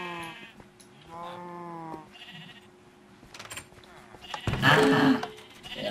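Sheep bleat in Minecraft, several wavering calls spaced through the clip, followed by a louder burst of game sound near the end.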